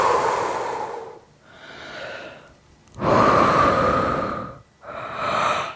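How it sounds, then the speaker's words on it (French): Deep, slow breaths at the close of a yoga session, near and loud: two long exhale-inhale cycles through the mouth, each strong rush of air followed by a quieter pull, with brief pauses between. "Et faire des grandes respirations par la bouche"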